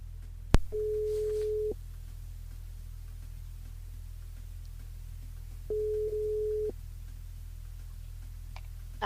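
A telephone rings out on a radio call-in line as the host dials a listener. Two long electronic ring tones sound clearly, separated by a pause, over a steady low hum and line static, with no talking.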